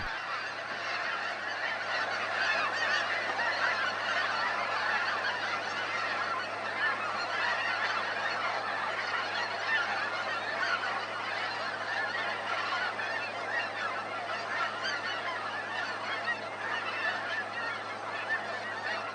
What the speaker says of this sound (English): one sometimes hears the distinctive honking sounds of snow geese off in the distance